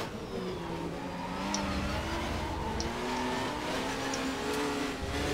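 A Seat race car in the game Race 07 runs steadily with its engine droning at high revs. The pitch rises and falls gently through corners, with faint tire noise and no voices.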